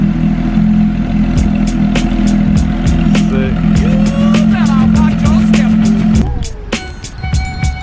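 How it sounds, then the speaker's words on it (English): A loud, steady straight-piped race exhaust on a Porsche 911 GT3 drones nearby with a voice speaking over it, then the rumble cuts off near the end. "the exhaust sounds phenomenal"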